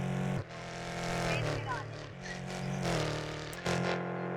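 Engine drone of a car driven in the mobile game Car Parking Multiplayer, rising and falling with the throttle and briefly cutting out twice, alongside game effects.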